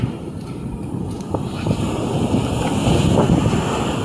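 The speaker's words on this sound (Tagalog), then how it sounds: "Diyan ang buhawi, malakas yan." A loud, steady roar of strong wind from an approaching waterspout off the sea batters the microphone, building slightly over several seconds with a dense, rushing low rumble.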